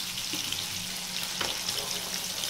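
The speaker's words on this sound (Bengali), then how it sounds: "আর বাকি যে মাছটা আছে সেই মাছটা আমি ভেজে নিচ্ছি।" Pieces of katla fish fry in hot oil, giving a steady, dense sizzle and crackle that runs through the whole stretch with small spatters and no voices.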